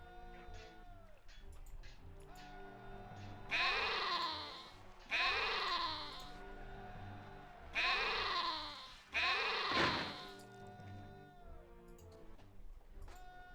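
Sheep in the Caesar 3 video game bleat in four loud, drawn-out cries spaced a couple of seconds apart, over a steady bed of game music.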